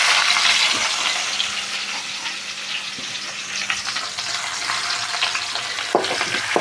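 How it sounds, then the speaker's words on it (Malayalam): Small shallots fry in hot oil for a home-garden vegetable curry, giving a steady, close crackling sizzle with a few stirring clicks and taps and no voices. "ചെറിയുള്ളി ഇട്ടിട്ട് നന്നായിട്ടൊന്ന് മൂപ്പിച്ചെടുക്കണം"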